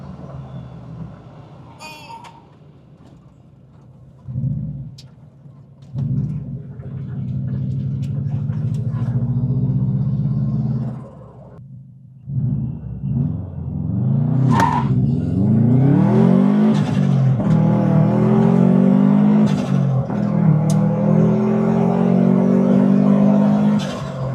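A Subaru GC8 engine revs repeatedly, rising and falling in pitch, loud and close as if heard from inside with the passenger window down, with brief pauses between pulls.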